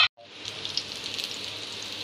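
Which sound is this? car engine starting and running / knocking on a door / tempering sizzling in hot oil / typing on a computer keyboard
tempering sizzling in hot oil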